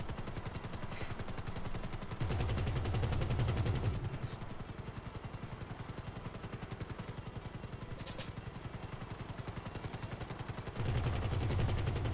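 Gunfire in GTA V single-player during a police car chase: dense, rapid bursts of automatic fire with heavier stretches of shooting, steady and loud throughout, with no voices.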